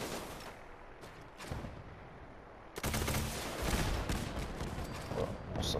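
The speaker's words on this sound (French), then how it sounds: "Ça tire plusieurs missiles." Rapid bursts of gunfire and explosive blasts from a modded weapon in Fallout 4 that fires several missiles which scatter into small grenades, starting sparse and turning into a loud, dense barrage midway.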